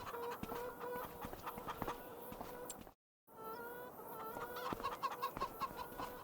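A flock of chickens and a rooster cluck and chatter steadily in a farming video game, soft and continuous with a brief silent break partway through.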